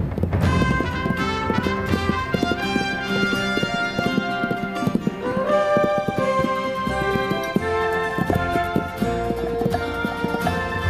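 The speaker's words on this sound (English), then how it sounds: "wild horses converge on the cool green heights" Wild horses in the southern Montana highlands run with clip-clopping hooves under a sustained orchestral music score, the hoofbeats blending into the loud, steady music.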